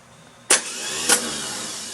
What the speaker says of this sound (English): So when it's installed in the tractor, it slams forward. That's the clunk you hear